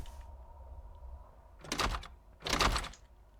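Two loud, broad door thuds land about a second apart, each with a short rumbling tail, heard over a low droning background inside the Momo horror video game.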